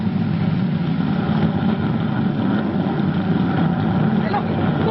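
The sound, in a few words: rocket engines firing on a spaceship, 1950 TV sound effect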